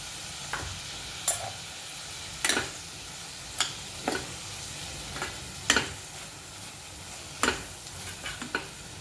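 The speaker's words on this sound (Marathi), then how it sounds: "आता आपण भाजी फोडणीला टाकूया इथं दीडशे ग्राम वाटाणे आपण घेतलेले आहेत फ्रोझन मटर आहेत हे" Frozen peas fry in a hot masala tempering for pav bhaji, a soft continuous sizzle broken by irregular sharp clicks and taps of a spoon stirring against the cooker.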